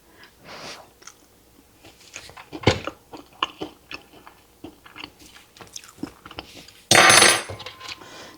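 Close, crunchy chewing and biting into a fried salmon patty, with soft clinks of cutlery and dishes, followed near the end by a brief loud burst of noise.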